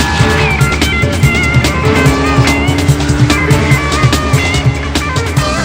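A Ducati 999 sport motorcycle with a V2 engine rides past, its loud, steady engine note buzzing continuously with slight rhythmic pulsing.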